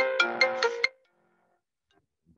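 A phone ringtone plays a short melodic burst of four quick tones lasting under a second, then falls silent before a voice begins at the very end.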